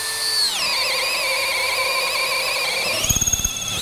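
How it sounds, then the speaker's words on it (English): A drill bores a hole in a wooden part for a captain's chair in a woodworking shop, a steady high whine holding pitch before dropping and slowing near the end, close and loud throughout. "Okay, so let's get that drilled."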